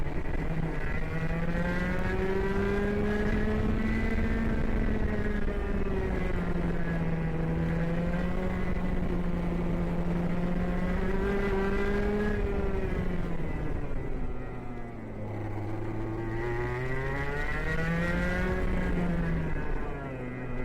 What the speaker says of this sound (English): It's a KA on my kart, let me be clear.